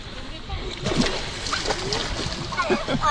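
Someone jumps from a jet ski into sea water only about 20 cm deep. There are a few close splashes and sloshing sounds, while people talk over the watery background.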